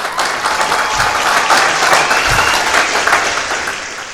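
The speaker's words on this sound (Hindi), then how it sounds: "एक बार अपने लिए जोरदार ताली बजा दें।" Sustained applause from a stand-up comedy audience fills the room, a dense steady wash of many hands clapping at an even loudness from start to finish, with no voice on top.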